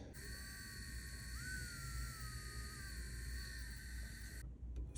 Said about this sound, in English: I'm about to drill the hole now